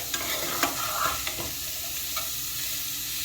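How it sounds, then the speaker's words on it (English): Onions sizzle and fry in a pan for homemade cheeseburger macaroni, a steady close hiss with a few scattered stirring scrapes and taps, no talking. "And then we're going to put our onions in."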